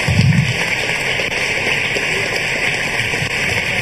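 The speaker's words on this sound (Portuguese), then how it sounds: "Dê um aplauso ao Senhor." A church congregation applauding, a dense, steady wash of many hands clapping together at close range, holding at an even level throughout.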